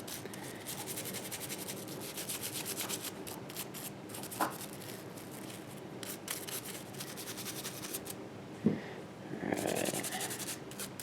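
Steady brushing scrub on the bolt of a Ruger 10/22 Takedown rifle during cleaning, a continuous close rasping friction lasting several seconds with a couple of small knocks.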